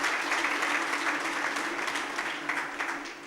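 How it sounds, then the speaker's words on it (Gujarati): An audience at a laughter-yoga gathering gives a strong round of applause to welcome a guest, continuous dense clapping at moderate volume with no talk over it. "પહેલાં તો ઘનશ્યામભાઈને જોરદાર તાળીથી વધારીએ"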